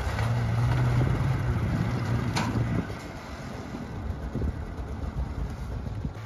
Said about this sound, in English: gently rev the engine to slowly drive the sled down the ramp